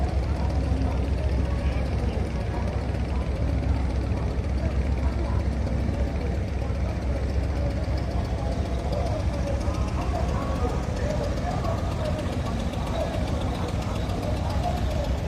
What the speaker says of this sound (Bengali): এটা হলো আমাদের লঞ্চ আর একটা লঞ্চ এই যে দরবারে উরুস উপলক্ষে আসছে